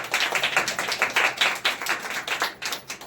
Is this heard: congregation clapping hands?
yes